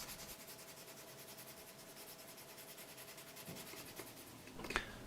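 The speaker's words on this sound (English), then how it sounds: "I'm just going to even everything out with some sanding paper." Sandpaper rubs steadily against a soft plastic swimbait tail, a faint, even scratchy hiss in a continuous rhythm, close by and with no voices.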